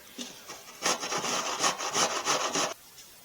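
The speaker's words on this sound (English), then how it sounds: "Next, we're going to grate up our apple pear." An apple pear grated by hand on a grater for Korean barbecue kalbi sauce: a quick run of rhythmic rasping strokes, close and fairly loud, then silence.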